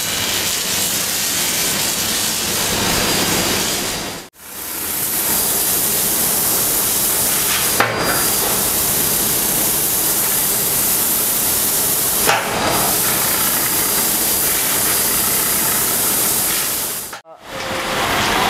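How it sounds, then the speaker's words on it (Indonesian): Aluminium welding on a motorcycle exhaust in a racing-parts workshop hisses loud and continuously close by, a steady spraying roar broken by two brief pauses and a couple of tiny clicks. "Dia lagi ngelas almu tuh."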